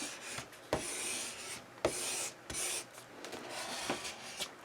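Dry rubbing and scraping strokes along a book spine, repeated several times with brief pauses, close and fairly quiet, something pushed firmly along paper or a binding.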